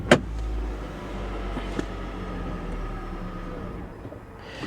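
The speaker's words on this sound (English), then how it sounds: "If you hit the gas, it'll fire back up again." A Roush Mustang engine catches with a short burst, then settles into a steady, close, rumbling idle that holds at an even level throughout.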